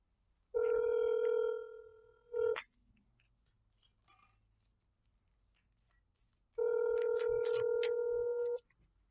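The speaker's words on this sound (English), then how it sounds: "Please wait while we connect your call." A telephone call being connected: two long, steady buzzing tones about two seconds each, separated by a quiet pause of several seconds, heard close and clear with no talking.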